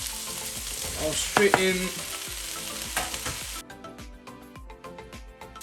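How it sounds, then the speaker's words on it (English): Mushrooms go into a pan of cooked vegetables and fry with a strong, continuous sizzle, with scraping stirs and a spatula knock partway through, while a voice briefly speaks. "I'm going to add the mushroom."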